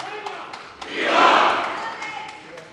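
In the Spanish parliament, a crowd's applause swells and then fades after King Felipe VI's speech marking forty years of democracy, a broad roar that peaks midway.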